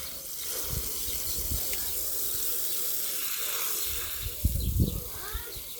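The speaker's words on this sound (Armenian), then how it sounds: "Սենց սիրուն առուն լցնում ենք, նայք։" Water runs and trickles steadily into a garden irrigation channel, with a few nearby splashing bursts, including a louder sloshing stretch toward the end; no clear talking.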